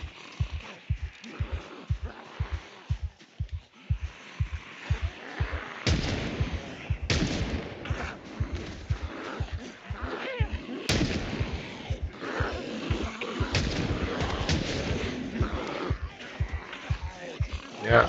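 A volley of gunfire in Project Zomboid, a regular train of sharp shots at first, then louder irregular bangs and clatter, close and punchy amid background game sound and occasional voice.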